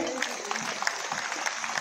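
An audience claps at a school's 25th jubilee ceremony as guests receive mementos, a steady, moderately loud patter of many hands with a low murmur of voices underneath.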